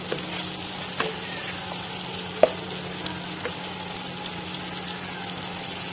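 Mutton pieces fry in a pan for a restaurant-style curry, giving a steady faint sizzle with a few soft clinks and scrapes, no talking.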